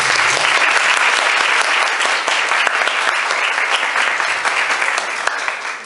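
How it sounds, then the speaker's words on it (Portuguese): Loud, sustained applause from a Christian lecture audience fills the room with dense, continuous clapping that tapers slightly toward the end, with no talking over it. "Então eu gostaria de dar uma salva de palmas por essa disposição."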